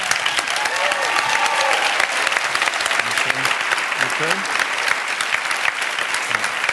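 A studio audience on a talk show breaks into sustained loud applause mixed with cheering, dense and continuous throughout, while a voice speaks briefly over it.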